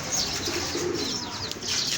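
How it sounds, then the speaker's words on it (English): Pigeons and doves on a chicken farm coo softly in the evening, with light chirps and a flutter of wings, fairly faint and continuous. "On the other side are my beautiful pigeons, doves."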